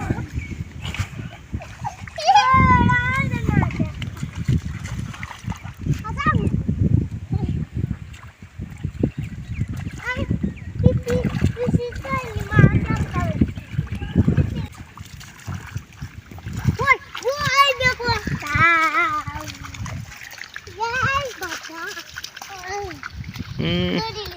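Children splash and play in fresh rainwater, with watery slaps and splatters running throughout under near-constant excited chatter and shouting from the kids.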